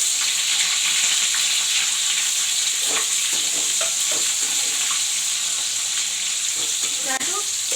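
Onion frying in a pan as the base for a fish curry with potato and cauliflower, a steady loud sizzle throughout with occasional scraping stirs and clinks of a utensil, no talking.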